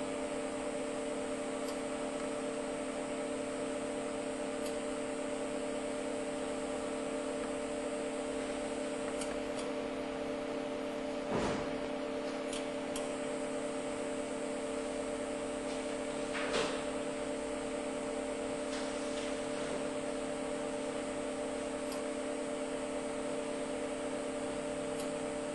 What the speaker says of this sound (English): The 4 foil rewind stations on the outfeed side of the machine remove the waste foil after the image has been stamped on the document.